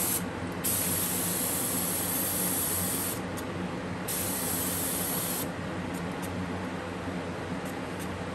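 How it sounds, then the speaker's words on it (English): A spray gun applies a lighter turquoise accent glaze with copper carbonate onto pottery, giving a steady, continuous hiss that runs throughout with brief dips in the upper sibilance, close and alone. "Just spray until you get a nice coat."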